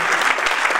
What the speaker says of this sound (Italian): un applauso a Fabio.